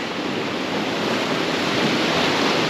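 Big ocean swell breaking against a jetty during salmon fishing, a loud, steady roar of surf and whitewater filling the whole clip with no voices.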